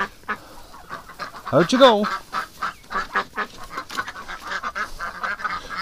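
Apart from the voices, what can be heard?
ducks quacking in a barn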